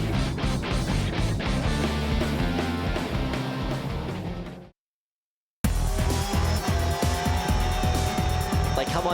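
Production sports race cars roar loudly around the Mount Panorama circuit at Bathurst, engines screaming continuously at high speed, cutting to brief silence before another burst of close, sustained engine noise.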